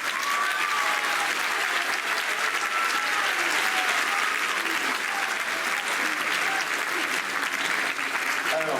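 Sustained audience applause at a concert by a large trombone ensemble, dense and steady clapping throughout at close range, with a voice briefly audible over it.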